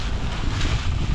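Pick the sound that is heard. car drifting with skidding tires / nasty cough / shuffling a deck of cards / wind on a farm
wind on a farm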